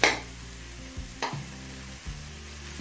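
Mixed vegetables for kochu shak labra sizzle and fry in a pan, with a few distinct scraping stirs of a spatula breaking up the steady, close hiss; no one talks.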